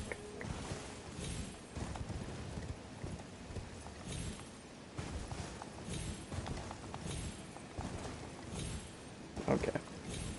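Horse hooves clip-clop in a steady walking rhythm in Elden Ring, fairly quiet and even, with a soft background wash and no speech.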